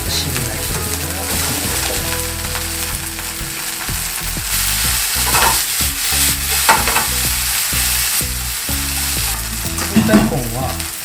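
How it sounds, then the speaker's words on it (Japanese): Green onions stir-frying over medium heat, a close, steady sizzle with rhythmic spatula scrapes and taps against the pan, running unbroken for several seconds. "中火で落ち着いてゆっくり炒めるということで、ネギがしんなりしてきたら"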